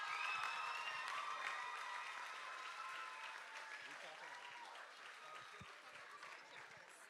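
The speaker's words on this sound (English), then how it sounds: "Please give all the contestants a rousing round of applause." Crowd applause with some cheering for the contestants at a junior soca monarch competition, a steady wash of clapping that gradually fades lower over the span.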